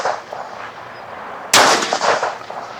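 A single sharp pistol shot cracks loudly at an outdoor shooting range after a second of quiet ambient noise, followed by a short fading echo.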